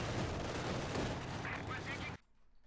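MG42 machine gun fire from a World War II strategy game comes as a dense, rapid rattle of shots that continues for about two seconds and then cuts off abruptly to near silence.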